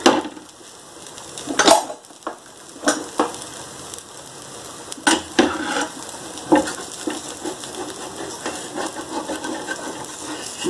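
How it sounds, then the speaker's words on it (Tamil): A dosa cooks with oil on a new tawa, giving a soft, steady sizzle broken by scattered clinks and scraping knocks of a utensil, close and fairly quiet. "மேலே நல்லா ப்ரௌன் ஆகிற வரைக்கும் தோசை வேகட்டும்"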